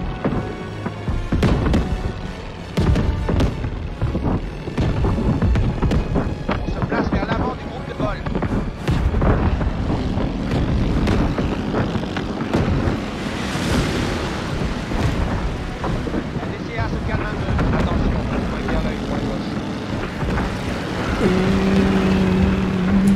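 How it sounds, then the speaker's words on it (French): A WWII fighter plane of the 509th fighter squadron flying close air support over the Battle of the Bulge in Call of Duty: WWII, a droning engine roar under dense bursts of gunfire and explosions, loud and continuous. "on est aux commandes d'un avion du 509e escadron de combat"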